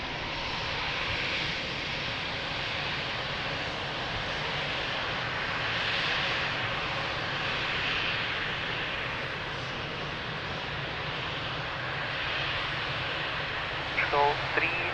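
A fixed-wing airliner climbs out after takeoff at Lisbon Airport, its engines a steady broad roar held at even loudness throughout, with a brief clatter near the end.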